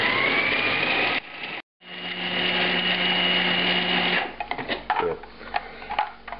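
A food processor chops meatball ingredients with basil leaves in a steady whirring drone, cutting out briefly and then running again before stuttering to a stop. A short spoken word follows.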